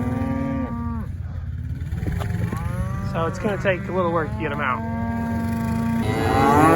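Cows and calves crowded in a pen low and bellow over and over, loud and close, the moos overlapping in a noisy chorus while someone talks over them.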